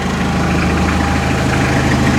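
A 1986 Ford Escort 2.0L diesel wagon engine idles steadily and low, a close, continuous rumble with an even throbbing beat and no voices.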